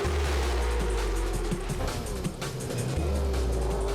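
Sidecar racing machines start a heat, their engines forming a loud, continuous droning roar with slight shifts in pitch as they pull away together.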